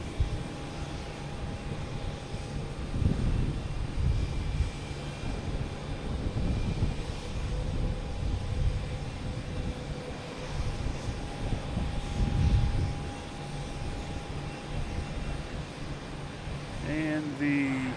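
An American airliner on approach to land at Boston Logan: a broad, steady jet roar that swells and fades slightly over several seconds, heard from some distance. A faint voice comes in near the end.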